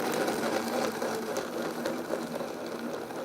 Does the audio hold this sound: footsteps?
no